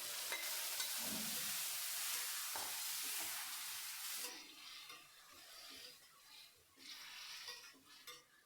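Boiled mutton with Madurai masala powder being added to a pan and stirred, a continuous hissing sizzle that drops away midway, leaving faint clinks and scrapes of a utensil, quiet and close.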